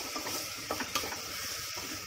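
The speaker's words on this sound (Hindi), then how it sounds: "राइस को अच्छे से भूनेंगे" Rice roasting in a pan is stirred with a few soft, quick scraping strokes over a steady, quiet sizzle.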